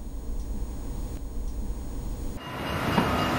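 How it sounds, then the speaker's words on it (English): A tram rumbles past in Amsterdam near the university, a steady, fairly close rolling rail noise with a soft shift in tone partway through and a faint squeal toward the end, with no voices. "Some come to the university by tram."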